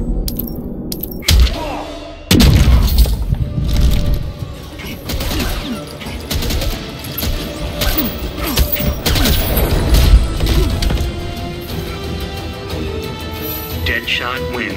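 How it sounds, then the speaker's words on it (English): Gunfire and impacts fill a fight in the video game Injustice 2, with repeated loud bangs, crashes and thuds in irregular bursts alongside character voices and effects. "Shots are getting closer."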